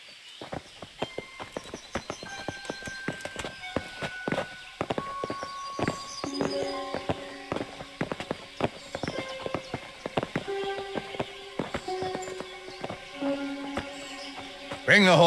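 Horses' hooves clip-clop in the medieval video game Kingdom Come: Deliverance, a steady stream of sharp hoofbeats throughout, mixed with game music and some speech.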